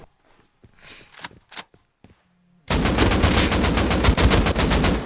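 Gunfire in the console video game Rust: a few scattered single shots, then a sustained rapid burst of automatic fire, loud and close.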